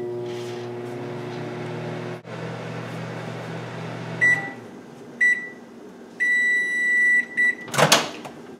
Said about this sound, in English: microwave these together until melted